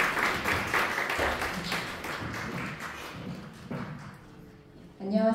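A church congregation at a Sunday worship service claps together in a dense burst of applause that gradually thins and fades over a few seconds, followed by a voice beginning to speak.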